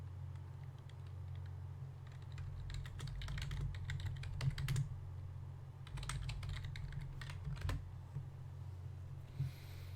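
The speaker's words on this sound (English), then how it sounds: "Don't mind my clacky keyboard." Clacky computer keyboard typed in quick bursts of sharp clicks, with pauses between runs, close and fairly loud over a low steady hum.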